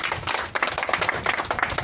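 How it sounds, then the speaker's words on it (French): Crowd at a public meeting in the Bas de Gué-Gué neighbourhood, Gabon, clapping to applaud the army; steady, dense hand claps of moderate loudness continue throughout, with scattered voices mixed in. "je pense que nous devons applaudir pour cette armée."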